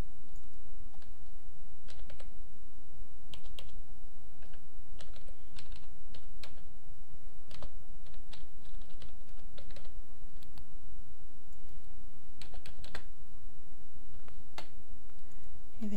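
Text is typed on a computer keyboard while working in Photoshop. Bursts of crisp key clicks come in irregular runs with brief pauses, close and clear, with no talking.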